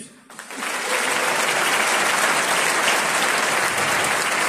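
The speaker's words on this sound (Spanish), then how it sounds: "Un aplauso." An audience at a Mendoza philharmonic orchestra concert breaks into loud, sustained applause for a guitarist, rising sharply after a brief quiet moment and holding as a dense wash of clapping.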